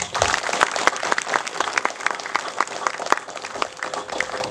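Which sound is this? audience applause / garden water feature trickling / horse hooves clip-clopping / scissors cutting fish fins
audience applause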